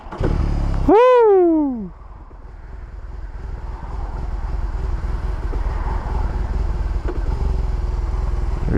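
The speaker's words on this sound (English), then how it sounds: "Really do feel the bike kick on here." A BMW R 18 motorcycle engine fires up with a sharp rising whine from the starter, then settles into a loud, steady, shaky idle close by. A rider briefly exclaims over it.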